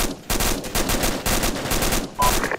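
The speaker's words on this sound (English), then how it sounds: "we're returning fire now" Dense bursts of automatic gunfire from an ArmA II military shooter battle, loud rapid volleys stacking over one another with only brief gaps, a team returning fire in a firefight.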